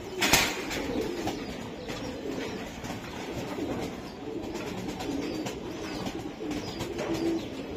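Many racing pigeons cooing together at a pigeon farm, a steady dense murmur of low coos with occasional wing flutters, continuous throughout with no talking.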